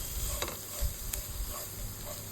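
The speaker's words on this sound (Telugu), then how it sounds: "తురుముకున్నాం కదండి క్యారెట్ అది కూడా వేసేయండి ఇది కొంచెం పచ్చిదనం పోయే వరకు ఉరికెట్లా ఫ్రై చేసుకోండి" Grated carrot fries in a pan, giving a low continuous sizzle with occasional soft stirring scrapes, fairly quiet throughout.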